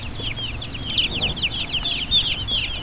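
Tiny newly hatched baby chicks on a farm in the Philippines chirp steadily, a dense overlapping cluster of high peeping calls running throughout at close range with no talking.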